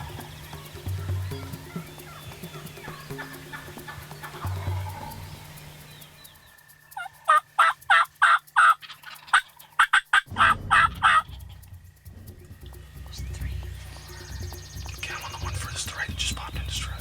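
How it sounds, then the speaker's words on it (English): Wild turkeys gobble from their roost, a burst of about a dozen loud, rattling calls in quick succession, set against a quieter outdoor background with low rumble and faint whispering nearby. "already we could see turkeys on the roost"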